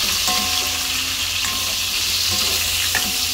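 Pork with green and red peppers stir-fries in a pan with a loud, constant hiss of sizzling oil, punctuated by a few faint taps of a utensil, up close and without talk.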